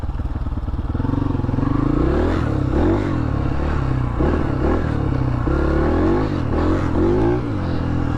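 A dirt bike engine revs hard in fifth gear while riding through the bush, its loud, continuous droning note climbing and wavering steadily toward the rev limit, close by and alone without talk.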